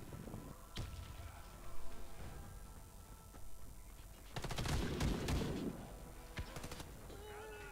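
Bursts of automatic gunfire in the online shooter Warface, some single shots and a dense rapid volley in the middle, over a background of game noise and faint voices.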